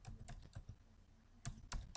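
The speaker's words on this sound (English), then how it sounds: "So if I should type in, for instance, Francis Minukun" Rapid, close clicking of a computer keyboard as an email address is typed in, in two short bursts with a brief lull between them, alone with no talk.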